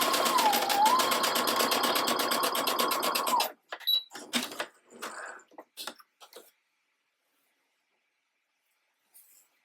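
A home sewing machine stitching lace fabric runs in a loud, fast, even whir of needle strokes for a few seconds, then stops, followed by a few short handling clicks and thumps before silence.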